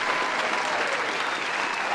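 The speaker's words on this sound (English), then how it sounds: "Give yourselves a round of applause" A steady round of applause from a live studio audience at a sports talk show about the Carolina Panthers, dense and sustained, with no speech over it.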